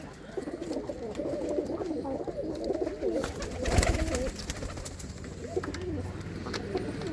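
Several pigeons coo continuously at close range, a low rolling murmur that stays steady throughout, with a short thump midway and faint background noise.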